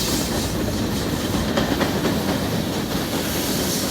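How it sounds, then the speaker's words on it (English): A BNSF freight train carrying tank cars and empty covered hoppers rolls past at Carkeek Park in Seattle. It gives off a steady, loud rumble with rhythmic clickety-clack from the wheels, close and continuous. "Quite a few tank cars in this train, and the regular assortment of empty covered hoppers and bulkhead"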